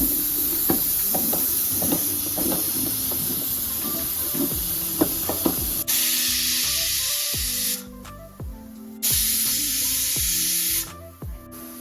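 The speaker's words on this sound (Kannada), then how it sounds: "ಈಗ ಎರಡು ವಿಸಿಲ್ ಬಂದಿದೆ" After some clinking of utensils, a pressure cooker cooking pigeon pea curry lets out two loud, sustained hissing whistles separated by a short pause.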